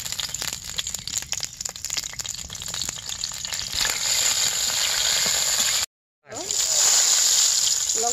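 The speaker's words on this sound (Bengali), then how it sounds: "তেলটা দিয়ে দিলাম, এখন আমি শুকনো লঙ্কাগুলো ভেজে নিব।" Dried red chillies frying in hot oil produce a dense, steady crackling sizzle with occasional stirring, loud and close, broken by a brief silent gap before the sizzling resumes.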